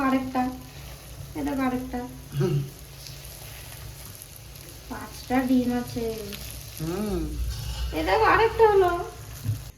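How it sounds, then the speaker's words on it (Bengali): Eggs sizzle in a hot pan as they are broken up and stirred into crumbly scrambled omelette pieces, a steady frying hiss running beneath a woman's close, continuous talking. "ভাঙতে থাকো ভাঙতে থাকো ঝুরঝুরি করতে থাকো"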